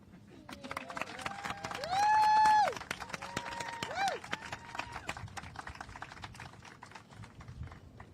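Applause from an outdoor crowd at a beach installation ceremony at Granada Beach, a steady patter of clapping that runs under a sustained tone and some voices.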